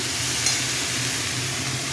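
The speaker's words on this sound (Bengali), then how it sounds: "আমি আলু পেঁয়াজ ভেজে নিচ্ছি।" Potatoes and onions fry in a pan, giving a steady, even sizzle and hiss that carries on without a break, close and moderately loud, with no talking.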